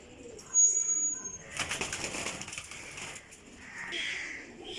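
A green Chini pigeon of a high-quality old breed coos softly at close range, and a short flutter of wings and faint rustling are mixed in.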